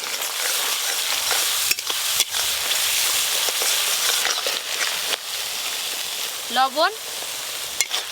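Mustard and poppy seed paste with chilli powder, turmeric and slit green chillies sizzles steadily in a pan, a constant broadband frying hiss with a few clinks of stirring and a brief spoken word near the end.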